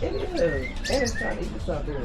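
Birds such as lovebirds and pigeon-like birds chirp and coo steadily at a flea market, close by, while people talk over them.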